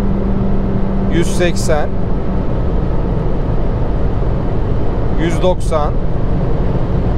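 A 2021 Honda Civic 1.5 Turbo at high speed gives a loud, steady engine drone with road noise. A voice briefly speaks over it twice; no distinct gear shift stands out.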